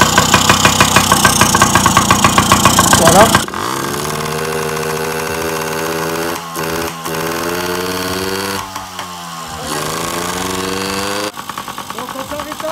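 A Yamaha PW50 motorcycle engine runs at a busy, buzzing pace, then drops to a lower, steadier idle that settles gradually and picks back up near the end; someone speaks briefly over it.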